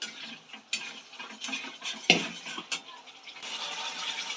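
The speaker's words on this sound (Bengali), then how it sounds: "এদিকে ভালো করে মশলাটা কিন্তু কষিয়ে নিতে হচ্ছে" Spice paste (masala) for a Kashmiri paneer dish is stirred in a pan, with a spoon scraping and clinking against the metal in uneven strokes, including one sharp knock midway, over a low background of cooking noise.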